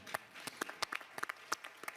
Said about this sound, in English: you can clap hands for it, it's fine